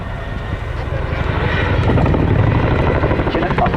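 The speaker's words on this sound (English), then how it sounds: "Chinook must be flown dynamically and aggressively very close to the ground" An RAF Chinook display helicopter at an airshow gives a steady, loud, close rotor thump with broadband engine roar throughout. A voice talks under the noise.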